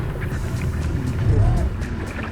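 Dinghy outboard engine running at low speed on open water, a steady low drone mixed with wind and water noise, fairly close.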